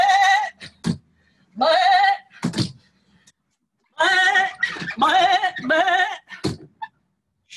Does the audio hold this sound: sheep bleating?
yes